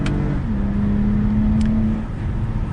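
A car engine revs and pulls through first gear on a test drive, a close, steady drone with a rising then held tone under cabin road rumble, no talking.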